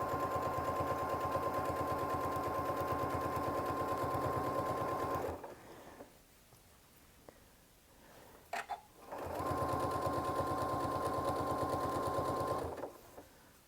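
A sewing machine stitches fabric in two steady, close runs of rapid mechanical whirring, each several seconds long, separated by a short pause with faint handling clicks.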